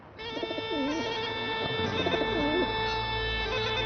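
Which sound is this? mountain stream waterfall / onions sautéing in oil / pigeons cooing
pigeons cooing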